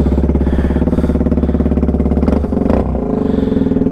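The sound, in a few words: 2019 Z125 motorcycle engine running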